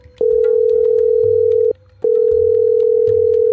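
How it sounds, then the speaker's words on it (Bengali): A steady electronic phone tone sounds in two long, loud pulses separated by a brief gap. "পরের দিন সকালে অফিসার রাজের কাছে একটা ফোন আসে"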